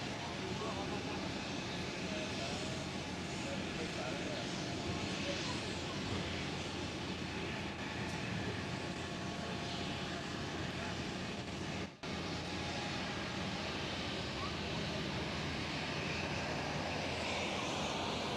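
An Aer Lingus airliner in rugby team livery passes at Schiphol, its engines a faint, continuous distant roar that stays level, with a brief dropout midway.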